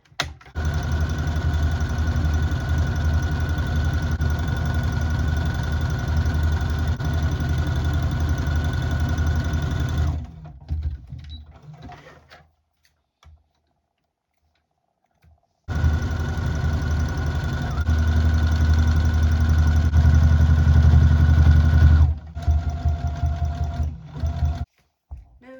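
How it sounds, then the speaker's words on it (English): Sewing machine running steadily as patchwork pieces for a tote are stitched together, a continuous motor hum for about ten seconds, then a pause of near silence before a second long stretch of stitching. "Now it's time to sew them together"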